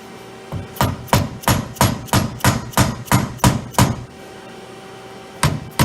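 Stainless steel pivot caps from a bushing kit being hammered into place on a 2018 Polaris RZR Turbo S suspension: about ten sharp, evenly spaced metallic blows, close and loud, then a pause and two more hits.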